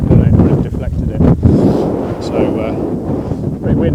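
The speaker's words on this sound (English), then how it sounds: "So pretty windy now." Strong wind blows outdoors in the countryside, buffeting the microphone with a continuous low roar and heavy gusts throughout.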